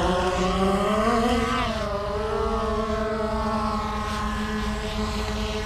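A Skydio 2 drone lifts off outdoors, its rotors spinning up into a loud, steady multi-toned buzz that dips slightly in pitch as it climbs and then holds nearby without talking.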